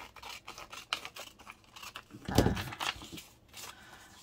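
Scissors snipping through a paper tag for a Daisy-themed junk journal, a few quiet close cuts with one louder snip near the middle, amid light handling rustle.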